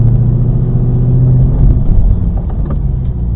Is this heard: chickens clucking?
no